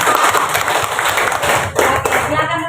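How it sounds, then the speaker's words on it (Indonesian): Group of students clapping in a classroom, a steady patter of many hands with voices talking over it throughout. "kita berikan tepuk tangan untuk kelompok kita"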